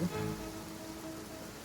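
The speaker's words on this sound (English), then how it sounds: "Oh yeah, it's raining." Steady rain falls in a video game, a dense even hiss of drops on surfaces filling the whole stretch, with a slightly louder onset and no voices over it.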